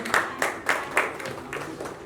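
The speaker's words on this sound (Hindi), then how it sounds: "जोरदार तालियां हो जाए cast and crew के लिए" An audience applauds the cast and crew at a film music launch event, with several distinct bursts of clapping rising and fading over a continuous crowd patter, fairly close and moderately loud.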